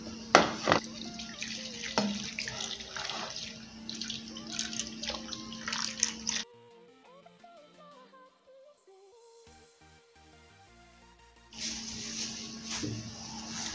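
Boiling water pours over ginger into a container, a steady splashing stream that stops midway and then resumes, with faint clinks in the pause.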